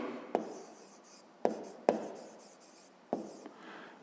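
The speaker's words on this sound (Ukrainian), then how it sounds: "Записуємо тоді так." Pen strokes writing out a fifth-grade math solution on paper, heard as four sharp, separate taps and scratches spaced unevenly across a quiet background.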